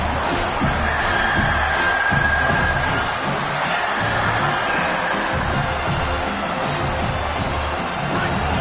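A football stadium crowd roars behind the defense on third down, a dense, sustained wall of cheering and whoops that stays loud and steady throughout.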